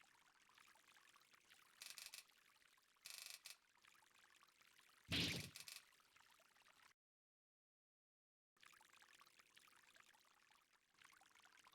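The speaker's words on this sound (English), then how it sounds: "Water trickling noises." Water trickles and pours in the feudal Japan samurai game Kengo 2, heard as a few short, splashy bursts, the loudest near the middle, separated by quiet stretches and a moment of total silence.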